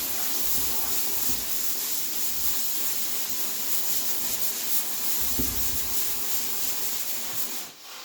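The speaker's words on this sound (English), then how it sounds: "So I can feel a little bit needs sanding here." Hand sanding on a wooden front door being fitted, a steady soft rubbing and scratching with slight bursts of heavier strokes, close and continuous with no talking.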